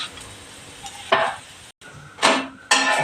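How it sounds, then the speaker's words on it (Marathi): A jowar flour breakfast batter roasts in a pan on a low flame, a soft continuous sizzle broken by a few louder scraping bursts and one brief cut to silence. "जरा चांगलं चांगलं मंद आचेवर भाजून काढायचं"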